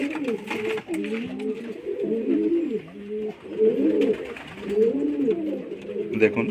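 Domestic pigeons kept at home coo in a steady, rolling chorus of overlapping low, throaty calls, close by and continuous throughout.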